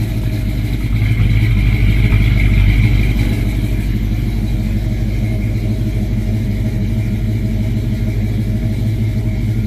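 A 2003 Chevrolet Silverado SS truck engine idles with a rich fuel condition and poor running, giving a loud, steady low rumble that swells slightly early on and then holds even, with no talking.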